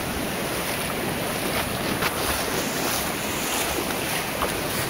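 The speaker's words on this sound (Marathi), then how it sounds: "लाटा किनाऱ्यावर येतात आणि परत जातात" Sea waves wash steadily onto Murud beach near Dapoli, a continuous broad surf roar with wind buffeting the microphone and no voices.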